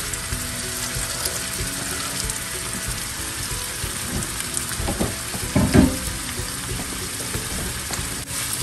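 Carrot, capsicum and asparagus cooking in a pan, a steady, moderate sizzle with occasional stirring clatter, close and continuous with no talking.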